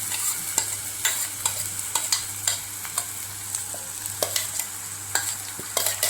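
Ground green chili kharda paste being stir-fried in a pan for an egg dish, with a steady sizzle broken by repeated sharp scrapes and clinks of a spoon against the pan, close and fairly loud throughout.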